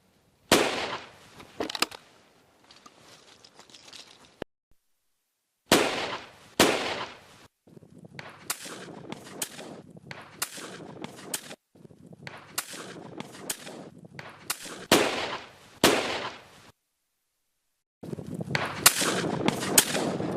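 Shotgun blasts from a partridge hunt, firing as driven birds come over: a string of sharp, loud reports, single and in quick pairs, spread across the clip with brief quiet gaps and no talking.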